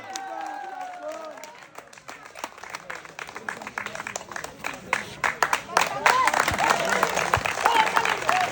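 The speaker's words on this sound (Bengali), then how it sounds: "সবাই আবারও একটা জোরে তালি হবে" An audience at a fun glass-tower-smashing challenge event claps, scattered claps building into louder, denser applause near the end, with some crowd chatter.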